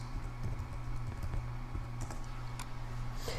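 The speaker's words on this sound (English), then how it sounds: "let's go over to the search and let's just type in focal" Keys on a computer keyboard are tapped in quick irregular bursts of soft clicks, close and fairly quiet over a low steady hum, with no voices.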